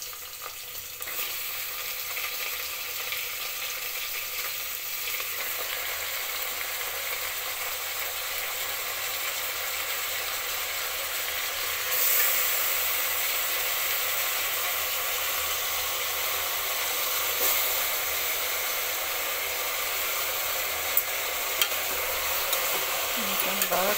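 Mutton pieces fry in a hot pan with a steady, continuous sizzle, and a spoon occasionally scrapes and stirs them. The sound is close and fairly loud, and no one speaks over it.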